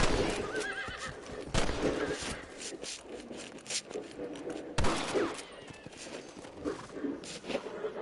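Horse neighing and whinnying in an open-world Western video game, loud and close, mixed with clip-clop hooves, scattered gunshots and footsteps, while someone talks over it.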